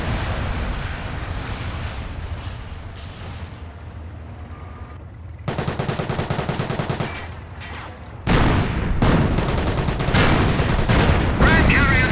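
Gunfire and explosions in the World War II strategy game Company of Heroes, with rapid bursts and heavy blasts that grow louder toward the end, and shouted voices mixed in.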